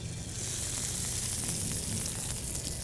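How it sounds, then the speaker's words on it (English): Melted butter with lemon juice and Worcestershire sauce sizzles steadily on a hot skillet, a close, even hiss with no talking. "So I'm gonna put that on a hot skillet,"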